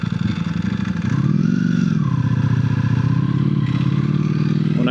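Motorcycle engine revving and humming as the bike is ridden, rising through a couple of throttle swells with a steady growl and some mechanical clatter, close and fairly loud.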